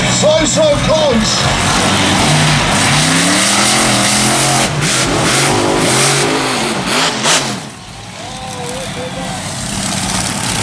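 Monster truck engines rev and roar during a race at the UK Monster Truck Nationals, loud and close with rising and falling pitch sweeps, while a crowd and voices sound underneath.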